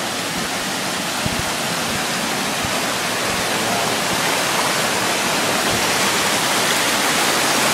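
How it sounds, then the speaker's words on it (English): Waterfall formed by a flooded lake overflowing its bank during Hurricane Irene: a steady, dense roar of rushing water, loud and close, continuous throughout with no talking. "lake has overflowed its bank. This is the waterfall."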